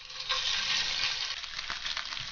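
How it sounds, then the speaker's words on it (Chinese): Minced meat frying in a little oil in a flat pan, a soft continuous sizzle with faint crackles, close and fairly quiet, no voices. "把提前剁好的肉末放下来煸出油"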